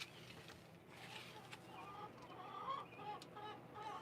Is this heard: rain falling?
no